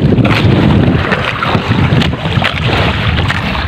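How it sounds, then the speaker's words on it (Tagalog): A neighboring fishing boat at sea, its engine and the hull rumbling close and loud under heavy wind buffeting on the microphone, steady throughout. "Yan yung katabing bangka din namin dito"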